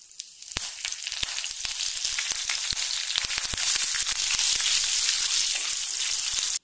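Curry leaves and sundakkai vathal fry in hot oil for vatha kulambu, giving a loud, steady sizzle broken by sharp crackling pops throughout, with no voices, then cutting off abruptly at the end.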